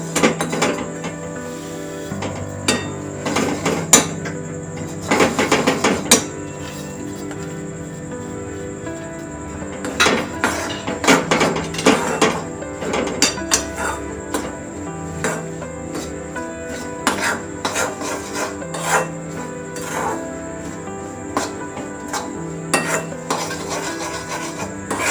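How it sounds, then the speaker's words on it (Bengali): White sesame seeds are stirred in a hot pan: a utensil scrapes and clinks against the pan in irregular bursts, with a faint steady sizzling hum underneath, close and clear with no talking. "এবার আমি সাদা তিলগুলো দিয়ে দেবো।"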